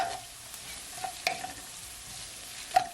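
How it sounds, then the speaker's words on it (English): Shrimp seasoned with cracked pepper go into a hot pan for salt and pepper shrimp, giving a faint, close sizzle with a few sharp clinks and scrapes, the loudest near the end, and no voices. "And now I'm gonna add my shrimp."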